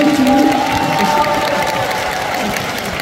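A crowd claps and cheers at an outdoor Chungju Citizens' Day celebration concert, with sustained dense applause mixed with scattered shouts, a voice briefly audible at the start before the clapping carries on steadily.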